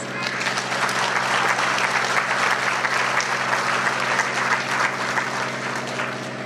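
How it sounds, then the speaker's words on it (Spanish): Warm, sustained applause from an audience at a graduation-style ceremony, a dense steady wash of many hands clapping at even loudness with no talk over it. "le pido a la concurrencia brindarle calurosos aplausos"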